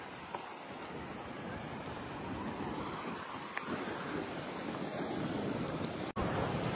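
Sea waves wash in at Pirwadi beach as a continuous broad roar of surf, mixed with steady wind buffeting the microphone, with no voices.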